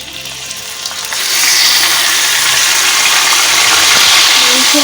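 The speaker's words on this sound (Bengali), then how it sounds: "ভিজিয়ে গ্যাসে কড়াই চাপিয়ে দিয়েছি, তেলও গরম হয়ে গেছে, আলু ভাজা হয়ে গেছে।" Chunks of meat, added over potatoes already fried, sizzle loudly in hot oil in a wok for a biryani, the frying hiss rising after the first second and holding steady and close, with no voices.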